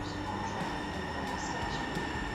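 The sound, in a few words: light rail train arriving at station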